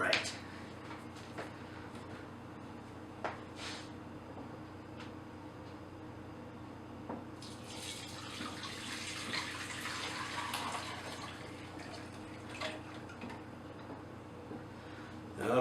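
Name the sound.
pouring mulled wine through a strainer into a crock pot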